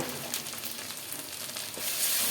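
Mixed vegetables with cauliflower and paneer frying in a pan with red chili powder while being stirred: a close, steady crackling sizzle with small scraping stirs, no voices.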